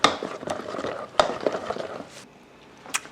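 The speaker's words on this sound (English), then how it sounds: "Add in a tablespoon of oil. Mix it again like a big spoon." Big spoon stirring oat cake batter with a tablespoon of oil in a bowl, giving close scraping and clinking strokes, busiest in the first two seconds, then fading to quiet with one last tap.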